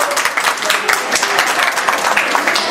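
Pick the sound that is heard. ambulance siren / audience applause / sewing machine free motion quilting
audience applause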